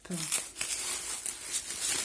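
Plastic bubble wrap crinkles and rustles in short bursts close up, with no talking.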